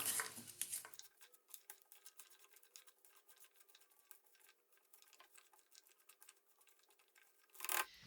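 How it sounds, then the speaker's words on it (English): Roast butternut squash pieces being mixed with a spatula or spoon, faint soft taps and scrapes in an irregular patter, with a louder clatter at the start and the end. "get a spatula or a spoon and mix it up"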